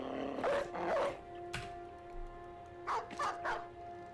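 Dogs barking in the medieval strategy game Battle Brothers, a few sharp barks in two clusters over a steady game hum, with no one talking.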